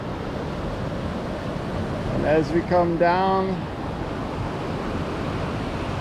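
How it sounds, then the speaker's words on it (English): Rushing white water of a mountain stream along the trail at Ravens Cliff Falls, a steady broadband wash throughout, with someone talking briefly over it midway. "Got a gorgeous rushing water, some white water right there."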